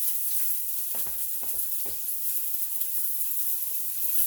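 Garlic sizzles steadily in a hot pan, a close, continuous crackling fry with a few soft stirring clinks in the first two seconds.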